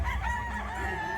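A gamecock rooster at a breeders' fiesta crows in one sustained, fairly close call over a steady low rumble of background noise, with no talking.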